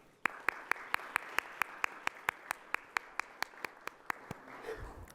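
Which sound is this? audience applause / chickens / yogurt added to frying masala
audience applause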